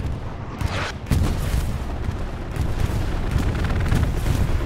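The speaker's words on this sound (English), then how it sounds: "Here's the bomb run." Bomb run striking the battlefield in Hell Let Loose during a competitive championship match, a dense, continuous roar of heavy blasts and deep rumbling that builds after a sharp opening crack and carries on without any voices.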